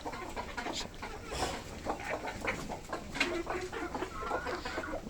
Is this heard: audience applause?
no